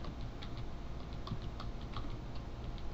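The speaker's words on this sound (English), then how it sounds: "and type in Regedit," Someone types on a computer keyboard at a command prompt, with quick, light, evenly spaced key clicks close by over a low steady hum.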